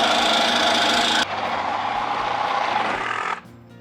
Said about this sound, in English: So right here, we're gonna place the Sawzall either side, actually all three sides, however you'd like to come in and do that. Make your cut.